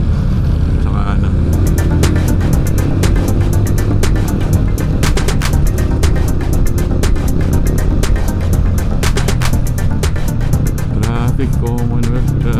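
Jeepney engines rumble through heavy Commonwealth traffic on a busy morning, a loud continuous roar with clattering bursts and passing vehicles, talk mixed in.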